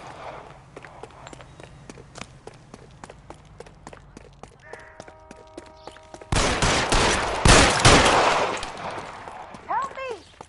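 Gunshots in the video game L.A. Noire: sharp, spaced cracks over a busy background, then a loud, dense volley of fire that sustains for a couple of seconds before trailing off with metallic whines.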